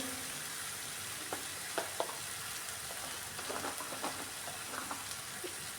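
Green chilies and turmeric sizzling in hot masala in a pan for a halwai-style boiled potato sabji, a steady close fry with scattered pops and stirring scrapes.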